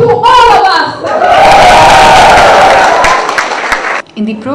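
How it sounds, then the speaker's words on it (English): A large audience at a Childreach Nepal event lets out a loud, sustained cheer and shout that swells and holds for several seconds before cutting off abruptly, with a voice briefly audible at the edges. "one more cheer to all of us!"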